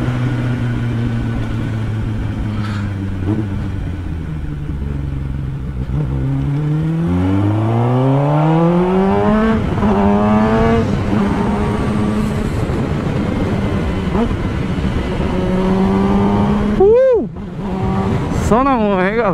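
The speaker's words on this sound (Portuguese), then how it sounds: "O cara com a motozinha dessa só quer saber de acelerar" A Kawasaki Ninja ZX-10 motorcycle with a straight-through exhaust revs repeatedly, pitch climbing and dropping in sharp bursts, loud and close, with traffic noise and a Portuguese-speaking voice underneath.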